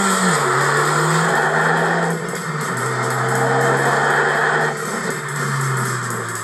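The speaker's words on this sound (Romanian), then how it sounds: "Noul sistem Active Sound Control devine și el alert și începe să te răsfețe cu un sunet super grav al evacuării triple." Car engine with Active Sound Control revs through a deep triple exhaust, a loud, close, sustained roar whose pitch climbs and dips as it accelerates, with no speech over it.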